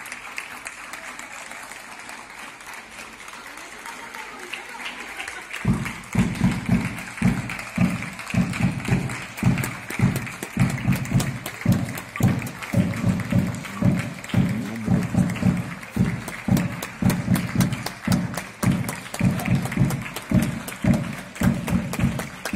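Neighbours clap from their windows during quarantine, the street quiet at first before steady, dense clapping breaks out and carries on, echoing slightly as if from surrounding buildings.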